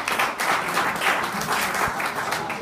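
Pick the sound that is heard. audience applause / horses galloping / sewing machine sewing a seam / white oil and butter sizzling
audience applause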